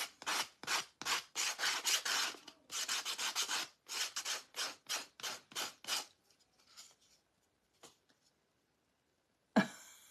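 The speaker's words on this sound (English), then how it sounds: "So we're just going to do a little sanding on this." Rhythmic sanding strokes rasp against a chippy farmhouse-style wooden snowman craft, about a dozen quick close-up passes in a steady beat, then tapering to a few faint scrapes and one sharp knock.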